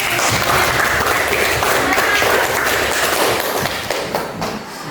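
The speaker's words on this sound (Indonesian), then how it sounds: "berikan tepuk tangan dulu" Audience applause at a classroom teaching session after a correct quiz answer, dense and loud many-handed clapping that holds steady throughout and eases off slightly near the end.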